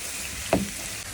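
Shredded cabbage cooks down in a hot pan with a soft continuous sizzle, broken by one brief louder hiss or stir near the middle.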